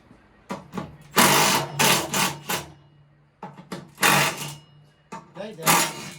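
A small, well-worn impact wrench hammers in several loud bursts of rattling, whirring blows separated by pauses, close by, with someone speaking in between.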